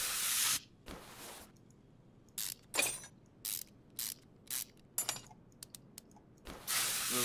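A WD-40 spray can in Car Mechanic Simulator 2021 gives short hissing spray bursts, several quick puffs between longer sprays at the start and end, quiet and clean with no talking.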